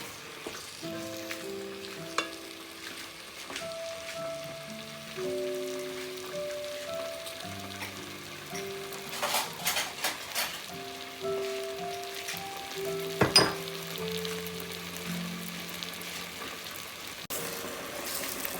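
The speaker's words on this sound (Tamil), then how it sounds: "நாங்கள் கத்திரிக்காயை கிளறி கொண்டிருக்கக்குள்ள 3 கரண்டி மிளகாய்த்தூள் போடுவோம்." Aubergine curry sizzles steadily in a pan as it is stirred with chilli powder, a soft continuous frying hiss with occasional louder scrapes, alongside sustained tonal music.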